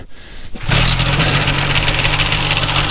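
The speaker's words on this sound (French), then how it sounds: "Attention, moteur." A paramotor engine, readied for a trike flight, catches after a brief pull and settles into a loud, close, steady buzzing idle.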